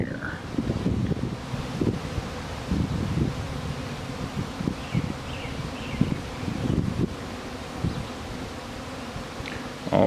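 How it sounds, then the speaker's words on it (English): A honeybee swarm hums around its hive outdoors, a steady mid-level buzz of many bees with individual insects zipping close past the microphone, while leaves rustle and wind brushes the mic. "there's lots of bees in the air."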